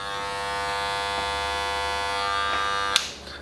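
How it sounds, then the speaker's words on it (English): A Wahl Legends hair clipper runs steadily nearby with a loud, even electric buzz and hum. A sharp click comes near the end, then the sound trails off slightly. Nobody speaks. "So that's, you know, the noise level on this clipper."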